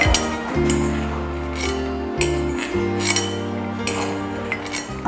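Dry roasted red chillies are moved from a pan into a bowl, with light clinks and scrapes of metal against dishware over a steady low electrical hum.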